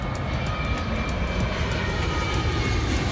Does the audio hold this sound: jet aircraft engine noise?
yes